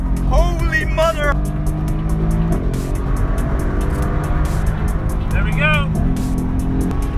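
A 2017 Mercedes-AMG GT S with an Akrapovic Evolution exhaust accelerating hard, a loud continuous engine roar with rising revs and crisp gear shifts, heard from inside the car while someone speaks briefly.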